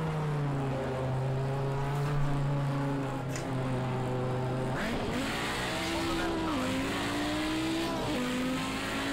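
A race car in Project Cars 2 drones loudly and continuously up close, its engine pitch holding and then rising through gear changes with brief dips at each shift, with a faint tire-scrub hiss beneath.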